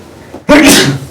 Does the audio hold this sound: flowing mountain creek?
no